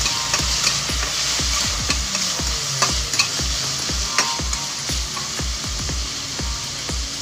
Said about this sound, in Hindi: अब हम इस स्टेज पर 1/2 कप टोमेटोज डाल देंगे। इसे अच्छे से मिक्स कर लेंगे।